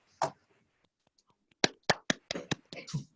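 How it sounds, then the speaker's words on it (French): Scattered hand claps from a small audience, a single clap early on, then a quick run of sharp, separate claps that thin out and end, close and moderately loud with no talk. "Merci beaucoup pour vos applaudissements."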